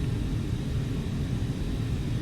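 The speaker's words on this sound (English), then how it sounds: "you're going to get to hear that nice sound of jet engines" Jet Blue A320neo jet engines spooling up for takeoff in Microsoft Flight Simulator, a steady loud low rumble with broad airy roar held evenly throughout, no voices.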